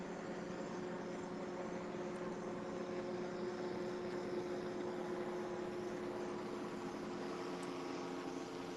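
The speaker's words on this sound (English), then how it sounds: "So that's the Brevard County Sheriff's Office Star helicopter right above us right now" A Brevard County Sheriff's Office helicopter hovers above a street near Liberty Park in Palm Bay, giving a steady, even engine drone that holds at moderate loudness without pause.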